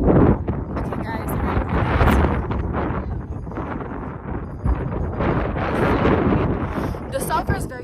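Strong gusts at Santa Ana Volcano in El Salvador buffet the microphone in loud, roaring waves, with muffled voices mixed into the blustery noise.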